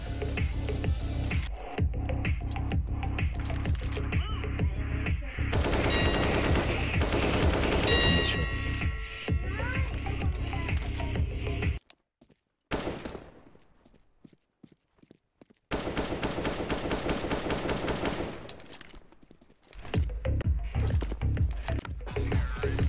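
Counter-Strike: Global Offensive gunfire rattles in dense, loud bursts of rapid shots, broken by a sudden gap of near silence before more firing.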